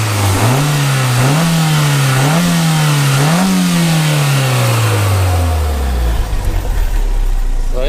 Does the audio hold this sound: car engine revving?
yes